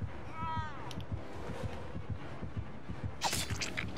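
Killer's heartbeat warning in the Dead by Daylight video game, a steady throbbing low thump roughly twice per second, loud and continuous beneath game sounds and a brief voice.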